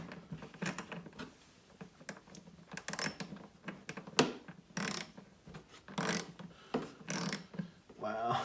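Old KTC ratchet, decades old, clicking during car maintenance: sharp, irregular bursts of ratcheting clicks, close and fairly clear, with short pauses between strokes.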